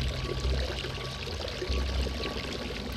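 Water pours steadily from a fountain in the game Dying Light, a continuous rushing stream close by, even in level with no talk over it.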